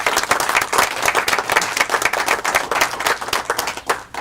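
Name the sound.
applause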